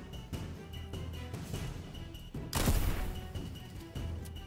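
Gunfire in the Fortnite battle-royale game: a series of quiet distant shots crackles under steady game noise, then a louder, closer volley bursts out midway, followed by more scattered faint shots.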